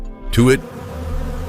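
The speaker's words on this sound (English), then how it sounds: "The furious bees still swarm overhead." A swarm of furious bees buzzes overhead in the African wild, a steady insect drone running under a narrator's brief words.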